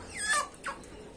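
A chicken gives a couple of short, close clucks in quick succession, with no talk around them. The setting is a backyard flock where hens are penned for a time and then let loose again.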